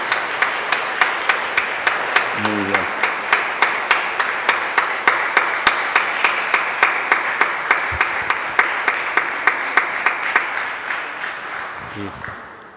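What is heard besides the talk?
audience applause for seminarian Maximiliano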